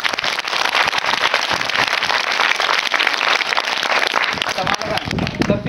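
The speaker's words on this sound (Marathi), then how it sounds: "टाळ्या वाजवायच्या" Village primary schoolchildren clapping their hands together in a classroom quiz, a dense burst of loud applause lasting several seconds with some voices mixed in.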